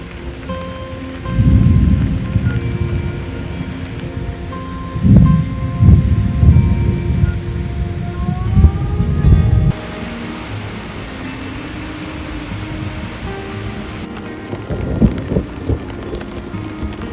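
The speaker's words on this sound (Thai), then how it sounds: "เสียงฝน ขนาดนี้ก็คงไม่ต้องบอกนะครับ ฝนตกนะทุกคน" Heavy rain pours down at a beach campsite at Hat Kaeo in Phetchaburi, with deep rolls of thunder rumbling through it in several loud waves over a constant hiss of falling water.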